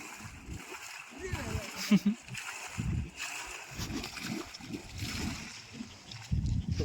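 Water from a pipe returns slowly after a burst of air, splashing and sputtering in uneven gushes with voices talking over it.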